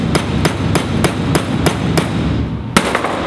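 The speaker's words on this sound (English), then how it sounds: "I'm gonna use a ball peen hammer, use the flat side. I'm gonna be smacking it here until I can get my desired curve." A ball peen hammer, struck with its flat face, bends metal clamped in a vise for a high school metalwork can punch and bottle opener: loud, close, ringing blows at a steady rhythm of about three per second, then a short pause and one more.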